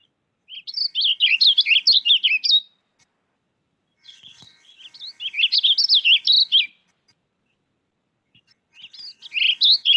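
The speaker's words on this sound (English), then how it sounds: "To me, it's just a soft," Warbling vireo, a bird of streams and thickets, delivering a soft, wheezy warbling song in three long rambling phrases of rapid twisting notes, each about two seconds, separated by short pauses, alone and fairly close.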